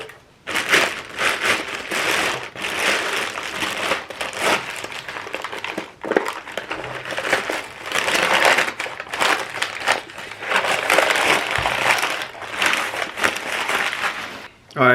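Crinkly plastic packaging rustles and crushes in repeated bursts as a Maxspeedingrods GT3076R turbo and its gaskets are unwrapped by hand, loud and close, with brief pauses between handfuls.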